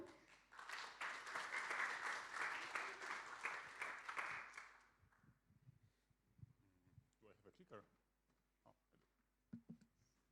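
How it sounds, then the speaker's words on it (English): Audience applause for a speaker at a DeFi talk, a burst of clapping lasting about five seconds before dying away into scattered noises and a few quiet voices. "please, everyone, give a big round of applause for Adam"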